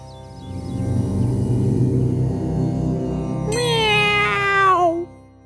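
A cartoon cat posing as a holy man lets out one drawn-out, falling meow over a steady background score, loud and close, ending abruptly.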